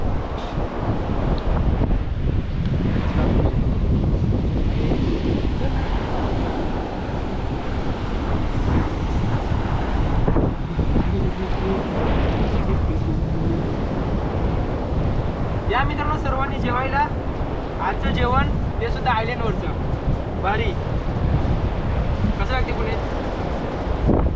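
Steady wash of sea surf and gusty wind buffeting the microphone on a sea island near Mumbai, with people talking over it throughout.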